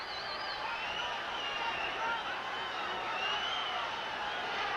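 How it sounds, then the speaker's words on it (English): A boxing arena crowd at a Julio Cesar Borboa vs Robert Quiroga fight keeps up a continuous, fairly faint murmur with occasional shouts and whoops, and a commentator speaks over it. "the crowd is making noise that you can hear"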